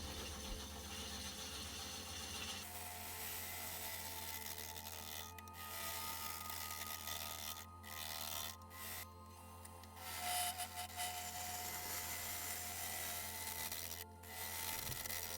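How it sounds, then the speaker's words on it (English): A planer working an unknown driftwood found on a Cornish beach, mounted on a woodturning lathe, gives a steady rasping, grinding drone throughout with a few brief dips, fairly close and alone without talk. "Quite a bit more taking off that corner with the planer"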